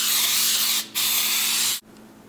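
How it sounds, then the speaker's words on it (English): Oil spray from a can sprayed onto a casserole dish, two sustained hissing bursts with a brief pause between, close and loud, ending abruptly. "Spray your pan"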